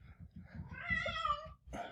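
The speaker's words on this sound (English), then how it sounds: "Hold on, I've got my cat freaking out." An agitated house cat lets out a drawn-out, wavering meow close by, with softer low rumbling and shuffling noises before it and a short second cry at the end, in a quiet room.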